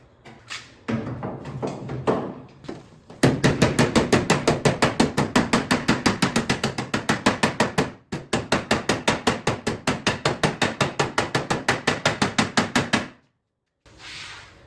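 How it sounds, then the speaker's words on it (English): Body hammers strike a dented aluminum boat hull in a fast, steady run of loud, sharp metallic blows, with a brief break partway through and then a short pause before a final few hits. "We should be able to flatten out with some body hammers."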